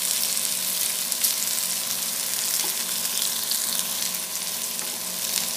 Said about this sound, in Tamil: ஆயிலில் இது அப்படியே ஷாலோ ஃப்ரை பண்ணி எடுத்துடலாம்